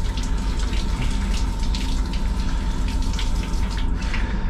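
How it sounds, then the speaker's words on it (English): Goggles rinsed under a running tap in an etching studio: a steady, close, hissing and splashing flow of water that continues without a break, with no talking. "I do like to rinse off my goggles before I use them"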